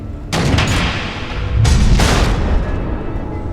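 Missiles explode in the Batman: The Enemy Within video game, two heavy rumbling blasts in quick succession, each a loud booming burst that lingers before trailing off.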